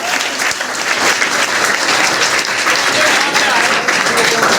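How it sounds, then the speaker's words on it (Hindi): An audience at a road safety awareness program at a Lucknow inter college breaks into loud, sustained applause, dense clapping filling the hall throughout with some voices mixed in. "इनके लिए जोरदार तालियां"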